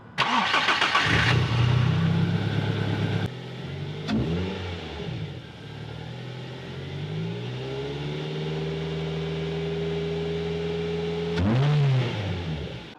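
A Ford Fiesta Mk6 ST150 engine, just after a rocker cover gasket repair, cranks and catches loudly, then settles into a steady idle, with a brief rev near the end.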